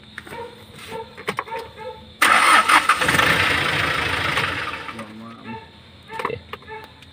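A Hyundai Porter 2 engine with a knocking injector suddenly starts, running loud and rough for a few seconds before dropping away, with ticking sounds and nearby voices before and after.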